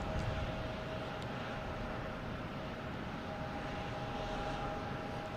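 A Delta Embraer E175 jet at Boston Logan Airport makes a steady, broad engine roar that holds fairly constant throughout, heard from a distance with no voices.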